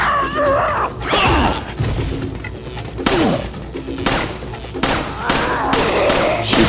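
Gunfire from a video game, with several bursts of shots and mechanical clatter spread across the clip, loud and busy over constant game audio.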